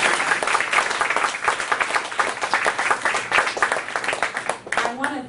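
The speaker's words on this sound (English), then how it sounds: "Can we have a round of applause for Candace?" An audience at a book launch claps loudly and continuously, the applause thinning toward the end as a voice begins.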